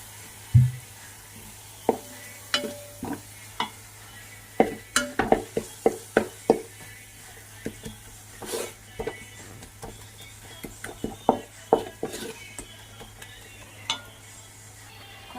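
Ginger-garlic water poured into rabbit roast frying in a pan, then stirred: a soft sizzle beneath repeated sharp spatula scrapes and clacks in irregular bursts, close and clear, with no talking.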